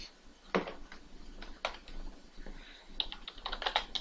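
Irregular clicks of code being typed on a computer keyboard, in bursts with short pauses, close and fairly quiet, with no talking.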